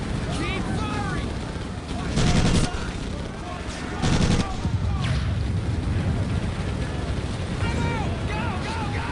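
Battlefield gunfire in Medal of Honor Pacific Assault, with rapid rifle and machine-gun bursts rattling over a dense combat din, punctuated by two heavy blasts, while soldiers shout beneath the chaos.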